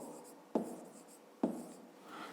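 A pen writes on paper in two short, distinct scratchy strokes over a low steady background, close and fairly quiet.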